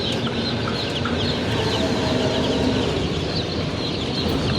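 A crowd of tiger-breed chicken chicks inside a poultry shop cheep continuously, many high peeps overlapping into a loud, busy chorus close by.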